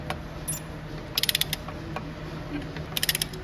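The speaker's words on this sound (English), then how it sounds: "So let's go ahead and put a torque wrench on it." Two short bursts of rapid metallic clicking from a ratcheting torque wrench tightening a bolt on a truck, with a few single clicks and faint mechanical creaks between them.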